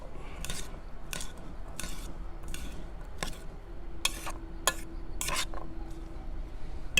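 A spoon scrapes and clicks repeatedly against a bowl while stirring rinsed canned black-eyed peas, a series of sharp, irregular strokes close by in an otherwise quiet kitchen.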